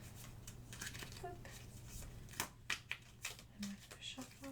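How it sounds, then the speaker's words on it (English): Tarot cards are shuffled up close in an ASMR divination roleplay, giving soft riffling and flicking bursts over a low background hum, with quiet speech mixed in. "Okay, shuffle that."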